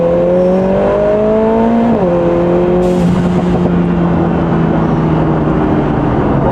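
A Lotus Emira four-cylinder fitted with a Valvetronic Designs exhaust, held in manual mode, revs loud and close, its tone climbing and dipping once before settling into a sustained high drone.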